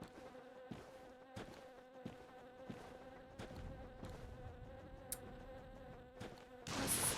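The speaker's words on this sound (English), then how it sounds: "Thought I heard buzzing." Insect buzzing in the dark fantasy game Dark Souls: Remastered, a steady droning hum behind sharp in-game impacts and clicks, with a louder rush of noise near the end.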